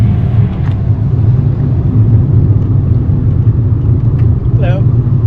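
A car drives along a road on Madeira, heard from inside as a loud, steady low rumble of engine and tyres throughout, with faint talking mixed in.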